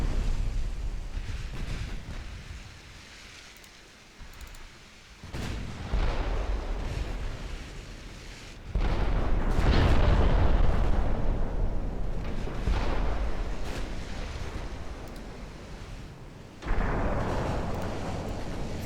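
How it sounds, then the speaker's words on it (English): Warship guns firing high-explosive and armour-piercing shells in World of Warships, heavy booming salvos rolling in repeated loud bursts with long rumbling tails, no talk. "One ship firing AP, one ship firing HE."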